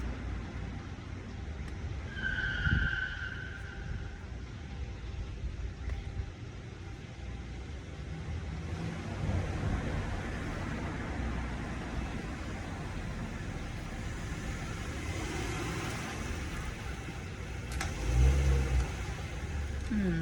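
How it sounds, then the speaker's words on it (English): An outdoor street scene with a car engine rising and falling as the vehicle drives past nearby, a steady broadband road rumble lasting most of the time with a louder swell near the end. "let the car pass by."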